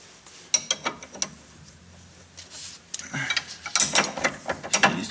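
A ratchet wrench removes a 17 mm strut through bolt on a Mitsubishi Eclipse, making bursts of rapid clicking that grow louder and denser toward the end, close up and without speech.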